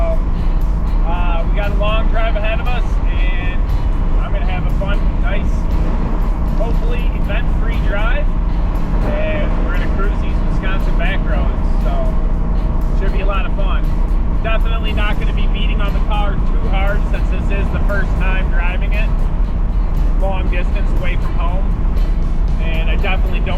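A 1967 Shelby Mustang cruises along a highway at 65 mph with a constant loud engine drone and road rumble from inside the car, and someone talks over it throughout.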